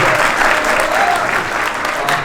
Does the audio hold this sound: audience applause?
yes